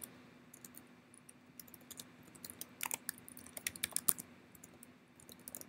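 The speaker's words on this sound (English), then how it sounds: "So let me type this in again." Someone types on a computer keyboard in a steady, close run of soft clicks that grows busier and louder midway, over a low background hum.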